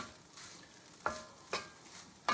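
Shrimp being stirred into fried rice in a pot, with three or four distinct scraping clanks of a utensil over a faint soft sizzle, close but quiet, no voices.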